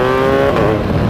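A 2019 BMW R 1250 GS Adventure with an Akrapovic exhaust revs loudly nearby, a rising, rasping engine note that swells and holds steady, with no talk.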